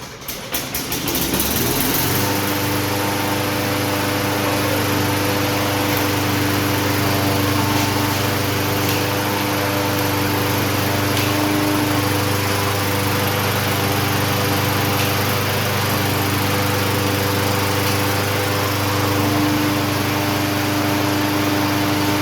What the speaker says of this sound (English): I am so happy that we was able to get this lawnmower running for the customer again